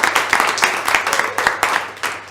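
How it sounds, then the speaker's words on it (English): An audience at a live talk event applauds a MasterChef cook, with close, distinct claps in a loose rhythm that continue steadily throughout. "Give her a big round of applause."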